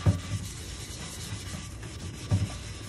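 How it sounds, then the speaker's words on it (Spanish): A scouring pad with cleaning powder scrubs a soot-stained cooking pot in quiet, steady rubbing strokes, with two heavier scrapes near the start and end. "Le ponemos poquito polvo a esta parte que quedó tiznada y con la fibra pues te viras para tallar"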